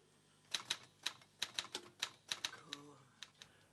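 Typewriter keys strike in an irregular run of about a dozen crisp clacks, recorded for playback, with a brief ratchet-like mechanical sound near the end; fairly close, no talk.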